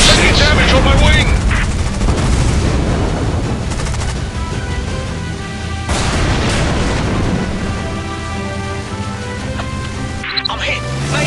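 Gunfire effects from a War Wings toy plane, with dense rapid machine-gun bursts and booming blasts filling the whole span loudly and continuously, and a short break near the end.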